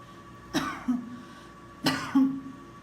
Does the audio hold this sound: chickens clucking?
no